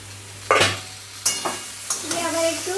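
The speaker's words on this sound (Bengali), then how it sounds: "একটু নাড়াচাড়া করে নেব।" Vegetable curry frying in a pan is stirred with sharp scrapes and knocks of the spoon against the pan over a steady close sizzle. No one speaks.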